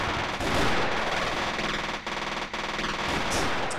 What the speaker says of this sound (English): mortars and heavy machine gun getting in position